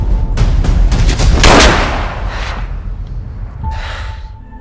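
A gunshot from a film scene about curving a bullet: a loud burst with a sharp crack and rolling boom that dies away into quieter rumble, with a brief breathy sound near the end.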